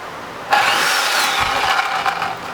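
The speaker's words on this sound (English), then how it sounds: "I'm going to go ahead and use the Sawzall and just cut right through" A reciprocating saw cuts straight through a metal suspension arm for a homemade go-kart, starting abruptly with a loud, steady buzzing rasp that runs continuously close by.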